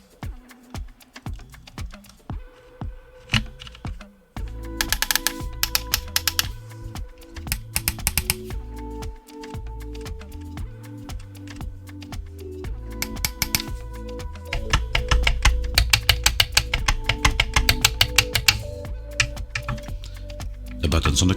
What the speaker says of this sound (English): The buttons do make a satisfying click when pressed, as do the magnetic shifters.